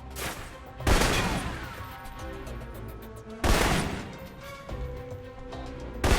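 Assault rifle fire in the video game Alpha Protocol lands in two heavy, booming bursts a few seconds apart. Each burst rings out and fades over a constant low background.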